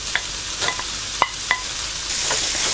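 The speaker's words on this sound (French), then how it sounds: "Je vais ajouter maintenant la viande hachée." Ground meat frying with onions in a pan over high heat, a steady sizzle broken by a few sharp utensil clicks and stirring scrapes, close and without talk.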